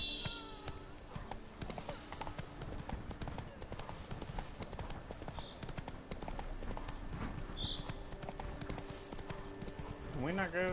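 Hoofbeats of Roach, the horse in The Witcher 3, gallop steadily throughout in a fast clip-clop rhythm, with game ambience and a brief whinny-like sound near the end.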